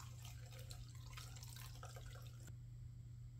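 Fuel trickling into the carburetor bowl of a John Deere LT160 automatic lawn mower, a faint steady dripping and filling sound that suddenly stops partway through.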